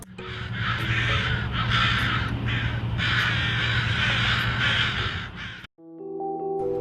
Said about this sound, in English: a flock of crows are reacting to the body of a dead crow